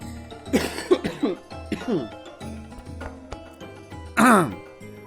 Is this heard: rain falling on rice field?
no